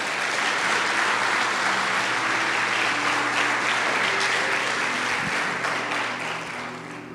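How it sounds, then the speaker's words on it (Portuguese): A church congregation applauding during an evening service, dense sustained clapping from a large crowd that holds steady and then gradually fades toward the end. "Você pode aplaudir o nome do Senhor por isso?"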